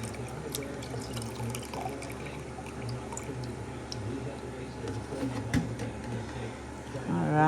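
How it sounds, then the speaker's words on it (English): Luffa water is poured from a jug through a strainer in a steady, trickling stream, with soft splashes and drips close by and a low background hum. "we're gonna go ahead and pour this into or through, and then here's the rest of the jug"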